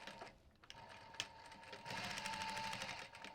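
Sewing machine stitching bumbag fabric pieces together, a faint, close mechanical whirr with a quick rhythmic stitching chatter that grows steadier partway through.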